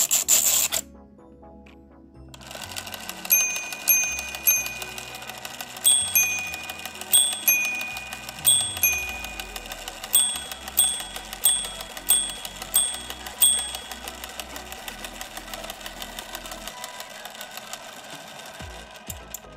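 A handmade minute repeater watch mechanism strikes a sequence of small, clear chimes, spaced and rhythmic, over steady faint whirring and clicking from the gear train, ending in quieter running.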